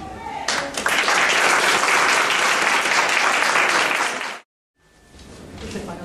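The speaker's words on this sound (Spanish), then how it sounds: "Pueden saludarse y también pueden aplaudir." Wedding guests at a civil ceremony held inside a prison burst into loud, sustained applause, which cuts off abruptly into a short silence before clapping and chatter resume more faintly.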